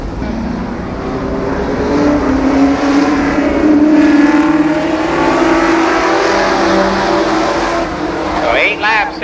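Race cars roaring down the backstretch at Columbus Motor Speedway during a 1993 race night, a sustained loud engine drone with a car passing through, heard under an announcer's commentary.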